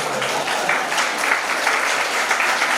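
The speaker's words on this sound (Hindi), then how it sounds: "इतनी ताली से नहीं चलेगा" Seminar audience applauds with steady, dense clapping that holds at an even loudness for the entire stretch.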